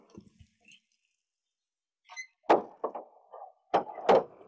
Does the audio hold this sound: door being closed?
yes